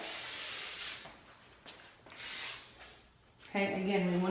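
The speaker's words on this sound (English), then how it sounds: "We're going to then take our hairspray" Two long hissing bursts of hairspray from an aerosol can, close and steady, separated by a short pause, followed by a voice starting to speak.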